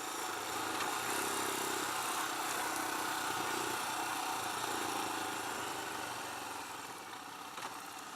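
A Royal Enfield Himalayan motorcycle engine runs steadily throughout with a constant broadband roar, fairly loud and unchanging, easing slightly toward the end.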